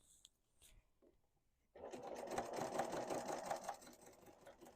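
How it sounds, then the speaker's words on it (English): A sewing machine quilts down the center line of a fabric tote with lengthened stitches, starting after a quiet pause and running steadily and fairly close. "I'm just going to quilt all the way down the center line."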